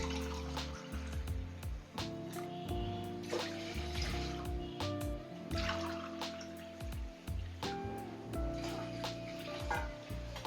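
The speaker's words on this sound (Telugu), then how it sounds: "అలానే దీంట్లో 2 గ్లాసులు నీళ్లు పోసేస్తాను" Water poured from a glass into milk in a wide pot on a lit stove, a soft close trickle and splashing with scattered drips and light clinks, fairly quiet throughout.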